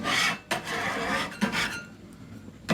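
A metal spatula scrapes across the surface of a newly heated Prisma Grill Lareira Diamond churrasqueira, giving repeated rasping strokes with short pauses between them, close and moderately loud.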